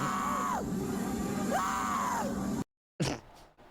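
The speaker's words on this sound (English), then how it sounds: "I tried to make the like most fucking blood curdling scream I could." A deliberately blood-curdling human scream, loud and close, with drawn-out wavering cries that swoop and break, followed by a sudden cut to silence and a brief sharp shriek.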